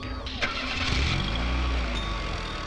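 A car engine cranks and catches, then settles into a low rumbling idle, close by in a tense street scene.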